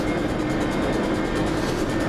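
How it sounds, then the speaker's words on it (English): A four-coach Class 315 electric train arrives at a London station on a Chingford service, a steady loud rumble and rolling wheel noise filling the platform. "Right, here comes our train coming in now."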